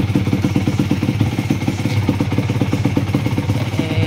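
Kawasaki KMX 125 two-stroke motorcycle engine fitted with a KTM 85 arrester exhaust, running close up with a steady, rapid, even pulsing beat near idle throughout.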